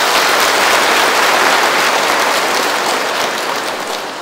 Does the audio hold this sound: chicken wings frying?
no